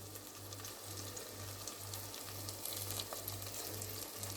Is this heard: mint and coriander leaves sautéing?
yes